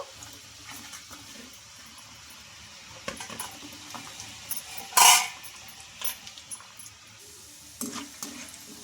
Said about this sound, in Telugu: ఇంకా మిగిలిన వాటిని కూడా ఇప్పుడు ఆయిల్లోకి అయితే వేసుకుంటున్నానండి